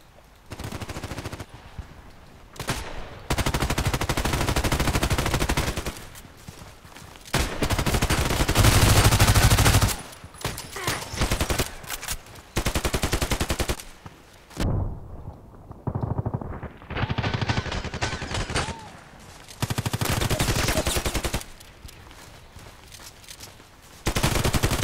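PDR-C gunfire in the Contract Wars shooter, loud bursts of rapid automatic fire repeating in long strings with short pauses between them, close and dominant with no talk.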